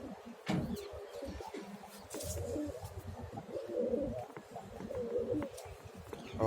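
Pigeons cooing inside a loft, soft low throaty coos repeating at close range alongside other bird calls and scattered chirps, with no talking.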